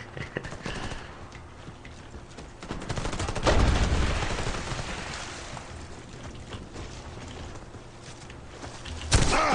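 Gunfire in the shooter game Warface crackles over a constant background of game ambience, with a dense burst of shots midway and a sharp loud report right at the end.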